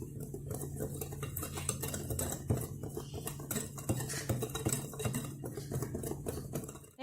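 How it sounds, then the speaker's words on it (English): Dry ingredients for eggless chocolate chip cookies (all-purpose flour, salt, baking powder and sugars) being stirred in a bowl, a continuous close scraping and clinking of utensil against the bowl with brief taps. "Give it a good mix."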